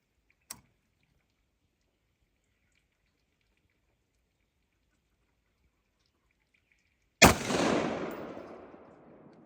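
A single rifle shot fired at night through a digital night vision scope cracks sharply and loudly, followed by a long rolling echo that fades out, with a faint click beforehand and silence in between.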